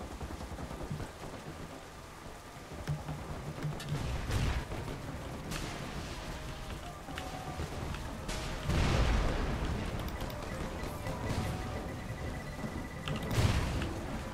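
Weapon fire and explosions from the zombie-escape game Pandemic Express: a few heavy booming blasts stand out from a rumbling, hissing background, spaced several seconds apart.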